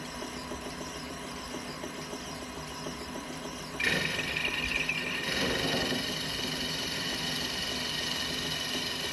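A belt-driven motor starter spins a Yamaha kart engine, a steady mid-pitched mechanical whir with vibration that jumps louder partway through and keeps running evenly to the end.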